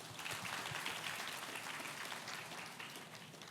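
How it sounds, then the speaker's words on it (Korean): Faint, distant applause from a conference audience at a financial-sector recruitment fair, welcoming a panel of five speakers; steady clapping throughout. "박수로 환영해 주십시오."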